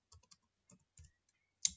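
A computer keyboard typing a domain name: a short, sparse run of soft, close keystrokes in irregular rhythm, ending with a sharper final click.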